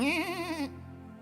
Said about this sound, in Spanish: empiezan por allá el balido de las ovejas